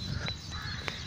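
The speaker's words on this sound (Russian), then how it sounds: "Вот, наверное, здесь вороны летают." Two short caws from crows in a park ring out about half a second apart, faint and somewhat distant over a low outdoor background.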